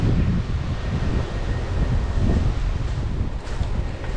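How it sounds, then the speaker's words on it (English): Strong wind roars steadily outdoors during an archery hunt in Indiana, buffeting the microphone with loud low rumbling gusts throughout, no voices. "It's really windy."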